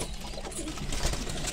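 Kabuli and Gola pigeons in a breeding loft cooing close by, soft throaty calls overlapping in a continuous murmur with no talking.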